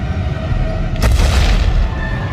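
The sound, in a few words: distant rumble as the earth begins to shake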